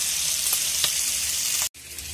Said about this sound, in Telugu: ఇలా పెనం మీద ఈ చేపల్ని పెట్టుకొని మనము ఫ్రై చేసుకోవాలన్నమాట